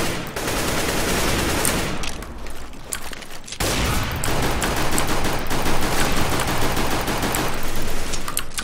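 A Negev machine gun in Counter-Strike: Global Offensive fires a loud, nearly continuous stream of rapid automatic shots, with a brief dip in the barrage partway through before it resumes just as hard.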